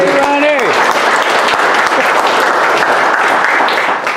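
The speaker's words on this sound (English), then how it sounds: "So I'm going to give a nice applause to Ron Zimmel" Loud, dense applause from a racing series awards banquet audience fills the room steadily, with a voice trailing off at the very start before the clapping takes over.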